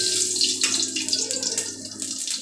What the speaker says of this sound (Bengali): জিরেটা ফোড়ন দিয়ে দিলাম।